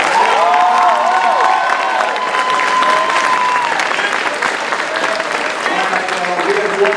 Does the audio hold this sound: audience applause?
yes